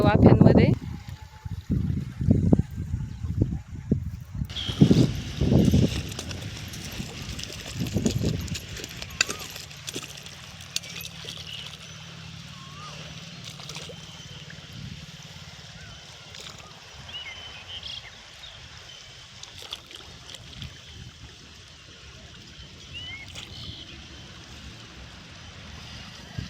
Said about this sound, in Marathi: हे पाणी पण आलेले आहे आता वाफ्यांमध्ये